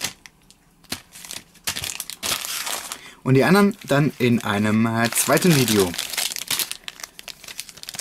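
Foil wrappers on original Star Wars Pog booster packs crinkle and tear up close in repeated bursts, while someone talks over part of the rustling.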